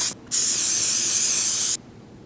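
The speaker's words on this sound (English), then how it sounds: "So a little spray glue, it's actually spray contact adhesive like a 3M90" A 3M 90 contact adhesive aerosol can sprays one steady hissing burst of about a second and a half, close and loud, after a brief opening puff, with no talk.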